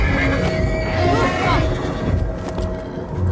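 A horse whinnies in a long, wavering call near the start over steady background noise, with a voice speaking around it.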